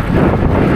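Wind roars in through an open car window while driving, a loud, steady buffeting rumble with no voices.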